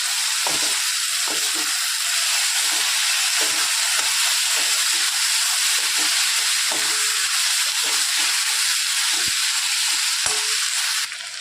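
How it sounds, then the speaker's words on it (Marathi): Sprouted moth beans sizzle loudly and steadily in a hot pan while being stir-fried, a constant close frying hiss with soft scraping stirs breaking through now and then. "मटके अशी छानपैकी परतून घेतलेली आहे"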